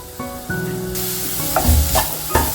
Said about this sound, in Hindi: जैसे ही ऑयल गर्म हो जाए, इसमें एक छोटा प्याज कटा हुआ, मीडियम साइज का एक प्याज ले सकते हैं आप। 1/4 table spoon garlic ginger paste.